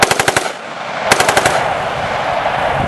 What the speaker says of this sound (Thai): เสียงระเบิดอันทียิบของกระสุนปืนกล